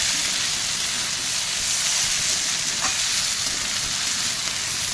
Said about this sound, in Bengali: তো সব একসঙ্গে মিক্স করে নিয়ে ভালোভাবে কষিয়ে নেব।